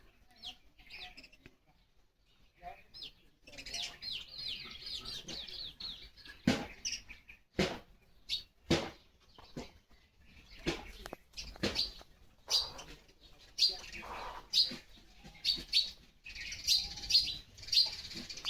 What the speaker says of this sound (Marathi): चिमणे बघ काय करतात घर बांधतात